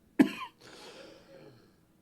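A single sharp cough, close and fairly loud, trailing off into a brief rough exhale and breathy throat noise.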